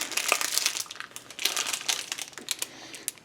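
Plastic bag handled up close while assembling a desktop PC with an i7-14700K, giving quiet, irregular crinkles and crackling rustles in uneven bursts, with no talking.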